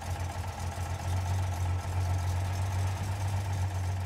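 A car engine with Weber DCOE carburetors, running a bit lean, idles steadily nearby with a low, even rumble and slight pulsing, running alone without voices.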